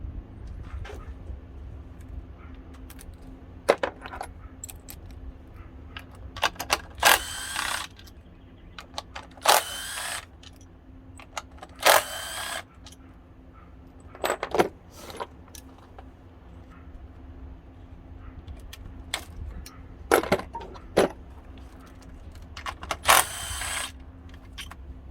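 A ratchet works on the valve cover fasteners of a 2013–2020 Ford Fusion, giving close metallic clicks and clinks in scattered bursts over a low garage hum.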